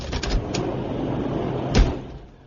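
Door sound effect in a vintage radio comedy, a few quick clattering knocks followed by a louder thudding open-or-close, heard over a hissy, muffled old broadcast background.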